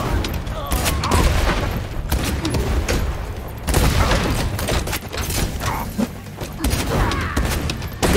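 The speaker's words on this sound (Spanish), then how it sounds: "¡Cuidado que explota!" Explosions and gunfire in the video game Warhammer 40,000: Shootas, Blood & Teef, a dense barrage of booms and crashes with a voice talking over the chaos.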